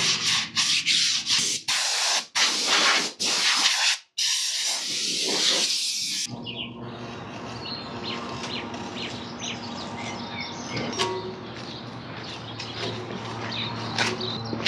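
Spray painting the fuel tank and fairing of a Honda Transalp during a rebuild: several short hissing bursts of spray, then a quieter stretch of handling noise with faint chirping birds in the background.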